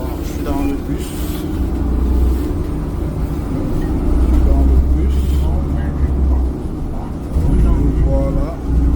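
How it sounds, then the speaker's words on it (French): A city bus in Ottawa rumbles and hums from inside the cabin as it rides along, with the engine tone swelling and easing while a voice talks over the vehicle noise. "Je suis dans le bus."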